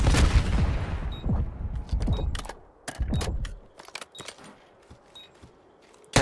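Rapid bursts of automatic gunfire in a competitive Call of Duty League match, loud and close at first, then sharp scattered shots and faint metallic clicks with no talking.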